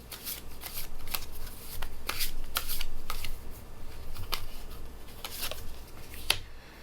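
Tarot cards are shuffled by hand at close range, with repeated crisp riffles and soft sliding bursts in an uneven rhythm and no talking.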